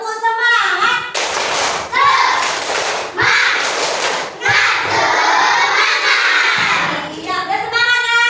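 A classroom of children performs a rhythmic cheer of clapping and shouting. Loud, energetic bursts repeat in a patterned sequence, with voices chanting along between the claps.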